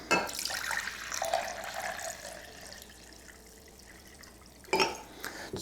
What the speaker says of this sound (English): So we're going to try to pour this in there.